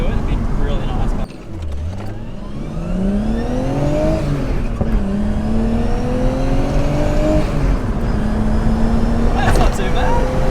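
A car drives along with a low, fairly quiet engine and exhaust note whose pitch rises and settles through gear changes, heard from inside over steady road rumble.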